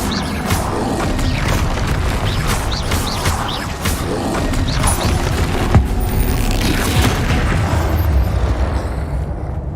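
Bombarda and Confringo spell blasts in Hogwarts Legacy, a dense, continuous barrage of loud booming explosions and crashing debris that rolls on without pause.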